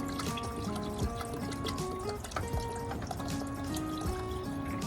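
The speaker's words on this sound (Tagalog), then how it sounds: "Kaya nagdagdag ulit tayo ng tubig." Water pours and trickles into a pot of chicken tinola, with light splashes and drips over a busy kitchen background.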